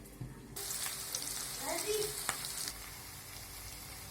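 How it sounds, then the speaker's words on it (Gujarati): Small manchurian balls frying in hot oil, a steady close sizzle that starts abruptly and fills the clip, with a few light clinks and stirring touches midway before the sizzle settles. "આ રીતે નાના નાના ગોળા વાળી અને હવે આપણે બધા તળી લેશું"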